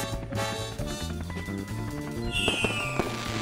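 Cartoon fireworks bursting over a musical background, a run of loud crackling pops and bangs with a rising whistle near the end, with no speech.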